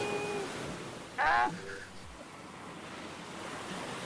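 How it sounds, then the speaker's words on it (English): Ocean surf plays as a stream sound alert, a steady broad wash of waves with wind-like hiss running throughout, and a brief tonal electronic chirp sounds partway through. "Listen to those waves."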